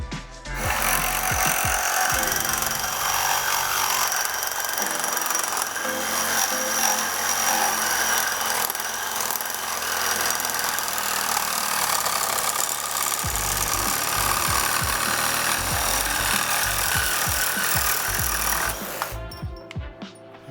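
Ryobi reciprocating saw with a fresh Torch blade cutting steadily under a 10-pound weight, a loud continuous rattling buzz lasting nearly the whole span before the cut ends.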